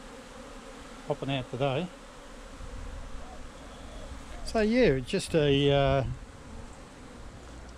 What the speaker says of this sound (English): small video of the bees gathering pollen from the Epiphyllum, the orchid cactus